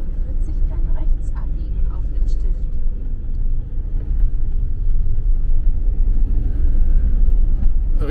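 A camper van drives along a road through Klingenmünster, its steady engine and tyre rumble loud and continuous while a person talks over it.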